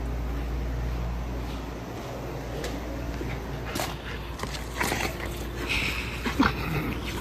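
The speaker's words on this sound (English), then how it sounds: "Have y'all ever seen a dog that likes ice this much?" A dog eagerly eating ice, with crunchy chewing and crackling bites that pick up in the second half over a steady background hum, close by and moderately loud.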